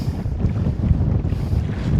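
Strong wind gusting over a lake during a kayak trip, a loud continuous roar and buffeting against the microphone with faint water movement underneath, no talking.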